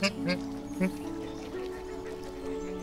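Wild geese on a migration stopover in Paris give a few short honks near the start and again just before the first second, then fade into a steady background of water and ambient noise.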